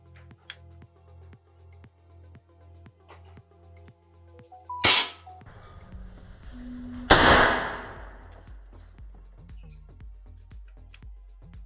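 A sharp crack from a Predator Tactical OD38 PCP air rifle, around 960 fps, followed a couple of seconds later by a second loud snap, over a faint repetitive ticking in the background.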